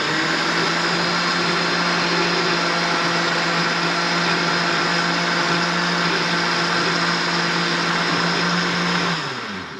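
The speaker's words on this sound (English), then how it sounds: "Make sure your lid is securely placed on your blender." Blender running on low, churning heavy cream into homemade butter; a steady, loud motor whir that holds constant for nearly ten seconds, then starts winding down at the end.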